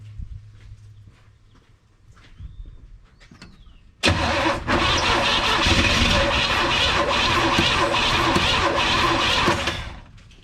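A 1962 Chevrolet C10 pickup with a weak battery cranks after a quiet lead-in: a sudden loud, harsh mechanical roar bursts in and churns on for about six seconds before cutting off.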